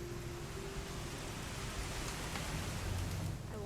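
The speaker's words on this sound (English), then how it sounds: "It's gonna rain the whole weekend, isn't it?" Steady rain in the video game What Remains of Edith Finch, a dense, even hiss of falling drops that holds at the same level throughout with no talk over it.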